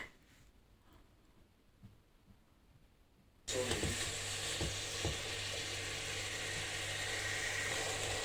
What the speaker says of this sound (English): I'll just go ahead and give them a stir for like 2 minutes like this